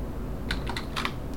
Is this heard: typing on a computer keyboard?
yes